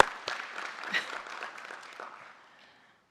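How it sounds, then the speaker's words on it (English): A crowd at a military college commencement ceremony claps steadily for a few seconds, the applause thinning out and fading toward the end. "we can give them another round of applause"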